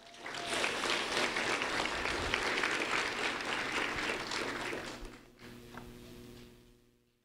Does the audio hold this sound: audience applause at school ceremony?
yes